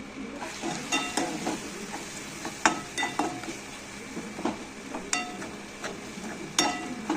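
Turmeric and red chili powder stirred into hot oil in a pan for a Maharashtrian potato dish, with steady sizzling and frying under repeated scraping and clinking of a spoon against the pan, close and moderately loud.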